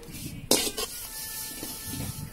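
Curry leaves dry-roasting in a pan without oil, a sudden crackling rustle as they are stirred, then a soft steady hiss and faint scraping, close up.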